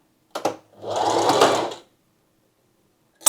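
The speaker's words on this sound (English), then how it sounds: "And I will continue doing stitching my rows." A sewing machine stitches rows on a sundress with elastic channels: one brief burst, then a steady whirring run of about a second, then silence and a final short start at the end.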